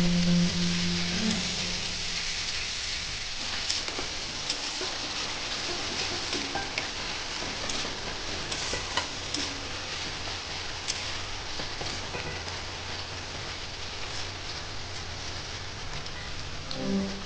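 Tomatoes frying in a pan while making urad dal (mati dali), a steady close sizzle with soft crackle running the whole time, starting with a brief louder stir near the beginning.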